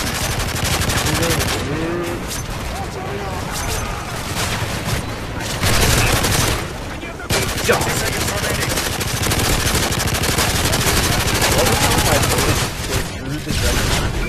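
Dense, rapid automatic gunfire and explosions pour out of an Xbox shooter game, a sentry gun among them, loud and nearly continuous with brief lulls, while players talk and shout over it.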